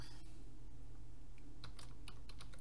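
Keystrokes on a computer keyboard while opening a browser tab, a quick cluster of light clicks near the end over a quiet low hum, no voices.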